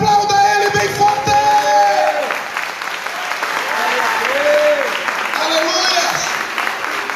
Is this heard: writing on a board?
no